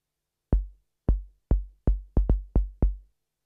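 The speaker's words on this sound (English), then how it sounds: "So the kick drum sounds like this." Eight single acoustic-style kick drum hits from a Korg Volca Drum, each a deep, punchy thump with a short decay, struck alone at an uneven pace with clean silence between them.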